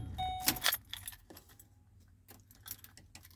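A loose ignition key jangles in the worn tumbler of a running Ford Expedition truck, a close bright metallic rattle in short bursts over the low steady hum of the idling engine.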